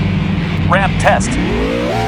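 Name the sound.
car ramp test in video game Roblox Car Dealership Tycoon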